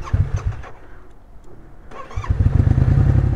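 A motorcycle running low on fuel, on its reserve, struggles to start: a close, loud cranking burst, a brief lull, then the engine catches and rumbles roughly, building into a steady run.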